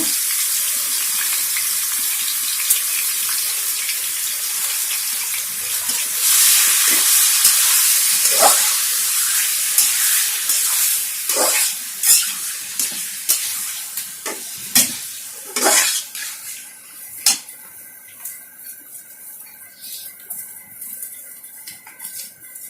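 Vegetables frying in hot oil give a steady, close broadband sizzle, broken by sharp crackles and spits that grow sparser and more isolated as the cooking settles.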